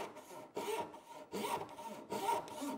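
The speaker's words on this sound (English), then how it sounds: "I'm just going to grab a tenon saw and cut that." A tenon saw cutting a kerf for a wedge slot in a traditional English-style workbench, three steady back-and-forth rasping strokes, close and quiet with no talk.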